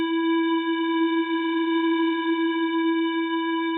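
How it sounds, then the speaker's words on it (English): Steady tone with a Valhalla flanger plugin's LFO, a slow, even swing sweeping through a sustained buzzy harmonic sound with fixed low fundamental and stacked overtones, loud and alone with no voices for about four seconds. "you can clearly listen to the LFO kind of a swing that is happening."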